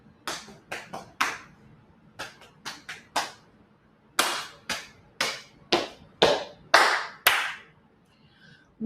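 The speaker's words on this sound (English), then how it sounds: "Tika, tika, ta, tika, tika, ta, clap, pat, pat, stomp, stomp, clap, clap." Body percussion in a conference team-building warm-up: sharp claps, pats and stomps in a repeating syncopated pattern, crisp and close, with short silences between the groups of hits and no voices.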